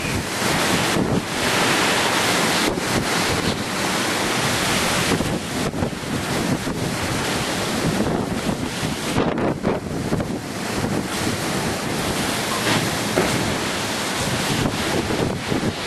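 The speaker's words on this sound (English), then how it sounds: "You can hear things collapsing, bits of tin being torn off, roofs." Roaring wind from Cyclone Yasi blasts steadily and loudly, with scattered sharp knocks and rattles as roofing tin is torn loose and bangs about.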